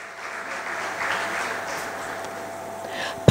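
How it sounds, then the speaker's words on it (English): Applause at a secondary school graduation ceremony, a steady wash of clapping at moderate distance, ending with a sharp loud knock. "Let's give Mrs. Elcock and her team a resounding round of applause."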